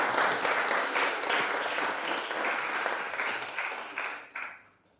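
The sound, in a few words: audience clapping at investor briefing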